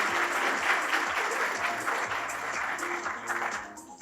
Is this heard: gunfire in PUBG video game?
no